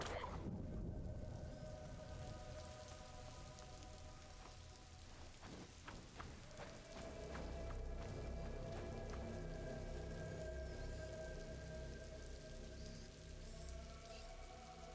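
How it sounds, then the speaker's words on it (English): Rain falls steadily in a medieval French setting in the game A Plague Tale: Innocence, a continuous soft hiss with scattered drips and a faint low rumble, quiet and without voices. "Lucas, Hugo, stay out of the rain"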